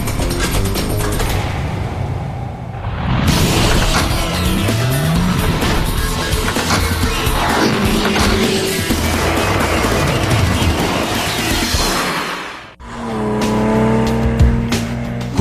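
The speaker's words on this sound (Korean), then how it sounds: "포르쉐 911은 작고 가볍고 민첩하며 차량 뒤쪽에 장착한 수평대양 6기통 엔진으로 움직입니다." A Porsche 911 sports car with a rear-mounted flat-six engine drives hard, its loud, continuous engine note rising and falling with gear changes and some tire squeal, briefly dipping before resuming.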